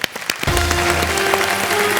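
A television quiz-show studio audience breaks into applause, starting from a few scattered claps and swelling into steady, dense clapping that continues strongly to the end, with a faint musical tone underneath.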